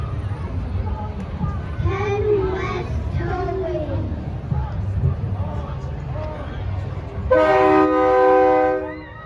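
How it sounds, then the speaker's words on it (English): Talk and crowd noise at a train show over a low rumble, then a loud, sustained multi-tone Nathan K3LA-9 train horn mounted on a truck blasts for about two seconds near the end. "somebody did actually have a Nathan K3LA-9 train horn on their truck"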